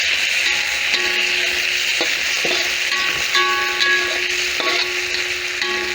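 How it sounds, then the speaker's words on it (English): Tomatoes stirred in an oiled pan while cooking macaroni with sardines, a steady sizzle with scraping spoon strokes and light clinks recurring throughout at close range, no talking. "I'll just give it a stir now"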